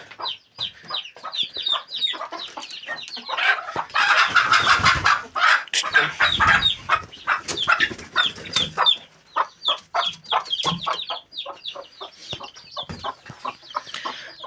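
Agitated hens cluck rapidly and loudly at close range, their calls bunching into a dense flurry of squawks and flapping midway before settling back into quick, repeated clucks.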